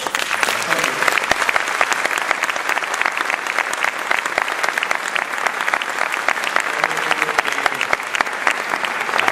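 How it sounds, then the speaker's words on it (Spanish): Audience applause at a tribute to Carlos Gardel in Vigo, a dense, steady wash of many hands clapping that runs loud and unbroken throughout. "Yo creo que le tenemos que dar un gran aplauso."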